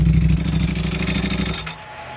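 A 2024 Ducati Panigale V4R superbike with an FM Projects titanium exhaust revs hard close by, then the engine is switched off and the sound drops away abruptly.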